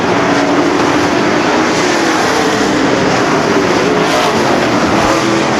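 Wissota dirt-track race cars circling the oval in a pack, a dense, loud, unbroken engine roar throughout.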